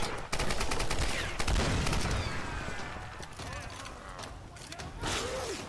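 Rapid bursts of gunfire crack and rattle at the player in the Tomb Raider video game, sharp volleys close by and dense through most of the stretch, with a shouting voice reacting between the shots.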